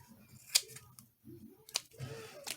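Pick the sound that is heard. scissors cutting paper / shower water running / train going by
scissors cutting paper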